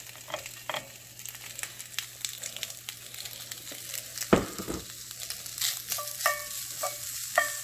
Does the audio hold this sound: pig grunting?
no